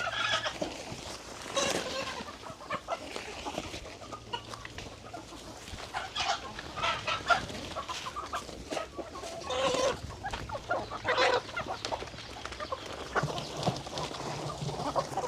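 Chickens and young chicks cluck and cheep continuously at feeding time on a rice-field farm, a busy overlapping chorus of close and farther birds with a low background hum.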